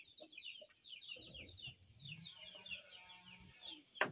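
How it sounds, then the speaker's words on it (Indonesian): Bangkok rooster on a village farm clucking softly and repeatedly, with higher chirping calls over it, faint and fairly close in a quiet setting. "Ini ayam Bangkok, guys."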